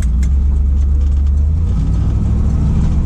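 A 1981 Pontiac Trans Am's V8 rumbles steadily from inside the cabin while riding, a loud, deep, continuous drone with no talking.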